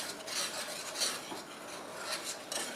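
Chocolate ganache stirred in a pot off the heat, a steady close scraping and swishing of utensil against metal with light clinks, continuous for a few seconds with no talking.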